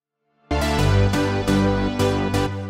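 A layered electronic lead synth from a dance-music drop, entering after a brief silence and hitting in bright, loud rhythmic chords with sharp repeated accents up close.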